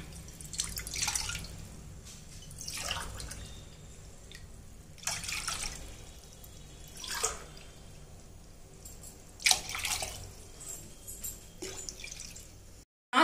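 Tumblers of water poured one after another into a pan for rasagulla sugar syrup: a series of separate splashing pours with short quiet gaps between them, fairly close and with no one speaking.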